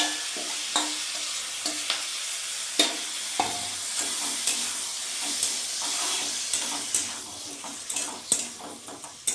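Homemade spicy chili chicken sizzles and fries in a pan as the prepared sauce goes in, with steady hiss under a spoon scraping and clinking against the pan in uneven strokes, close and fairly loud.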